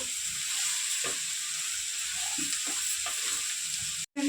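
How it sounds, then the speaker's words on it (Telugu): Ridge gourd stirred into a frying dried shrimp curry: a steady loud sizzle runs throughout, with soft scraping strokes of the spoon in the pan beneath it, briefly cutting out near the end. "బీరకాయ వేసి కలిపేసుకున్నామండి"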